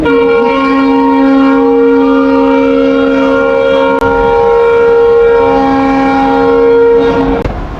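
A Bangladeshi passenger train sounds a long, loud, steady horn blast as it pulls out of a station in Chapainawabganj, holding its sustained tones close and unbroken for several seconds.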